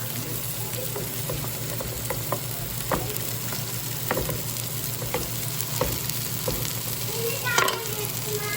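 Cabbage sautéing in a pan gives a steady close sizzle with scattered scraping, stirring clicks throughout, and no voices.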